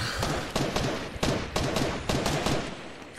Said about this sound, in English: People are shooting guns.